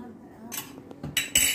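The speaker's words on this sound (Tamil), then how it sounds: "பக்கத்து அடுப்பில் ஒரு சின்ன பேன் வச்சுக்கோங்க." A small pan set down on a neighboring stove burner while making spicy pongal, with a few sharp metallic clanks and clatters close by after a quiet moment.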